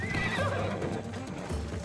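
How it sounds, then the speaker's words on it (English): Horse neighing loudly with a rising and falling whinny in Assassin's Creed Odyssey, with hoof clip-clop and game ambience underneath, close and clear over nearly two seconds. "Was that a horse or a lion? That was a big horse."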